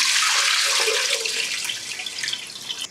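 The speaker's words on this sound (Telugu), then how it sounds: "సో ఇప్పుడు ఈ వాటర్ అంతా స్ట్రెయిన్ చేసేస్తాం." Soaking water from green gram pours out through a strainer in a steady, close, splashing rush that gradually thins toward a trickle.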